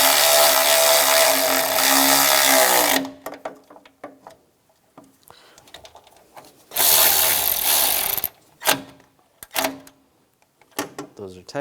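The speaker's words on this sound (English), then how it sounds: "Tighten those down." A ratchet wrench tightening bolts on the AC condenser bracket of a 2004-2009 Toyota Prius, heard as loud bursts of rapid clicking separated by pauses, close and clear, with someone talking in between.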